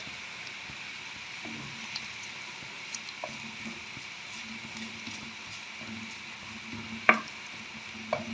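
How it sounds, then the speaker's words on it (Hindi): Crushed ginger frying in oil in a pan, a steady soft sizzle with occasional stirring scrapes and light clinks close by. "अदरक को भी मैंने कर लिया फ्राई।"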